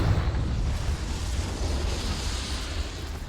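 A Confringo spell explosion in Hogwarts Legacy, a loud, dense blast with a deep rumbling body that stays heavy and rolls on for several seconds, with no talk over it.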